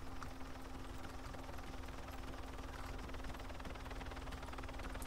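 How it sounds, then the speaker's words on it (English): A helicopter flies in the video game Arma 3, its steady rotor thrum and engine drone faint and continuous throughout, with no talk. "Oh, now that you say it, there's a helicopter."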